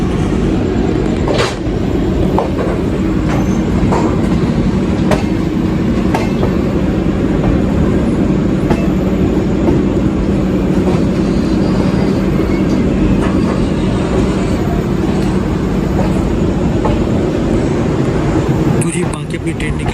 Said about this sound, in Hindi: बाकी अपनी ट्रेन निकल रही है फाफा जंक्शन से